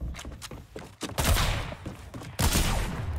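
Sniper rifle fire in a one-on-one video game match, several sharp cracks in quick succession early on, then two heavy blasts with dense, sustained reverberant noise between them, loud and close.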